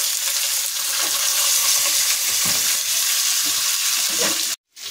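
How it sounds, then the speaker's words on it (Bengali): Two more fish pieces sizzle on a hot tawa with a steady, loud, close frying hiss and light crackles that run almost the whole time, then cut briefly to silence near the end. "এইভাবে আরও আমরা 2 পিস মাছ তাওয়ার উপর যোগ করে দিলাম।"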